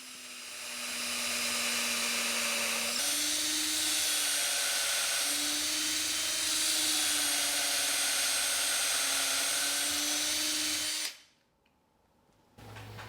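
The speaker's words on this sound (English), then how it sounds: "my drill press is so small, I actually have to finish these off by hand" A small drill press bores deep holes into a cheese cutting board with a steady, loud whine that rises slightly in pitch partway through. It runs for about eleven seconds, then cuts off abruptly.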